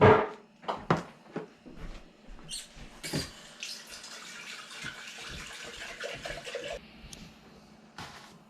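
Liquid from fermented homemade apple cider vinegar pours and trickles through a strainer lined with cheesecloth into a jar, a steady close splashing stream with a few louder splashes early on.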